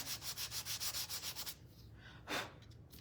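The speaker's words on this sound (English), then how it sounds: "And then let's sand that part right there." Sandpaper rubs back and forth on a spring farmhouse kitchen-mixer craft piece in quick even strokes, close and quiet, followed by a pause and one longer, louder swipe.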